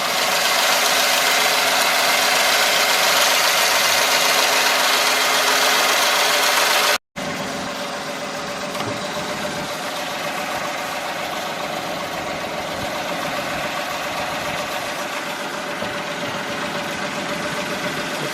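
A Toyota Aygo / Citroen C1 small engine idles steadily after a water pump replacement, a constant close rumble with even mechanical ticking, briefly cutting out for an instant before resuming at the same level.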